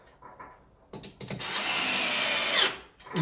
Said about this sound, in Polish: Drugą wkrętarkę.